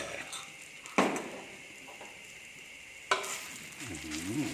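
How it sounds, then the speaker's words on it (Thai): Pounded dried chili and garlic stir-fried with shrimp in a little vegetable oil in a home Thai kitchen: a soft steady sizzle broken by two sharp spatula scrapes, with a brief voice near the end. "ใส่พริกแห้งตำใส่ก็กระเทียมเนาะ ใส่ลงไปเลย"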